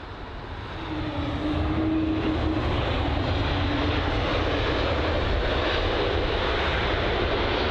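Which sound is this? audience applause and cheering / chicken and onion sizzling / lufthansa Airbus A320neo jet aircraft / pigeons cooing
lufthansa Airbus A320neo jet aircraft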